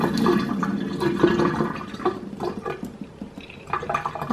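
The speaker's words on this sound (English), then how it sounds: "and then let the water drain out." Water pours and drains out of a container of sprouting mung beans, a steady splashing trickle with a few drips, close and fairly loud.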